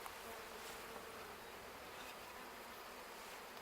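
Honeybees from a freshly installed package swarm around the front of a hive, a close, steady, dense buzzing drone that continues unbroken without talk.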